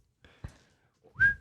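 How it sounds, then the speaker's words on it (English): A person whistles a short jaunty tune, a few quick soft notes followed by a louder rising note that holds briefly, close and clear, with no talking. "I just start whistling."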